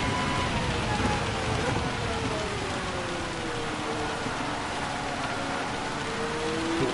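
Steady rain hiss from the Gran Turismo 7 racing game on a wet Tsukuba circuit, a dense, even wash of falling rain that holds throughout with a faint engine drone sweeping underneath.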